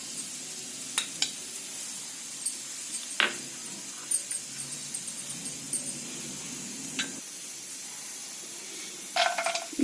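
Ghee heating in a hot pan ahead of roasting cashews, almonds and dates for pumpkin carrot halwa gives a steady, close sizzle, broken by scattered clinks and a few sharper crackles, with no talking.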